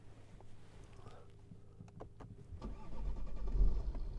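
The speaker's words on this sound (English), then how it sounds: "It's fired up just like as before." A BMW 116d diesel engine cranks and fires up, its rumble building and settling into a steady idle nearby, while a person talks over the start.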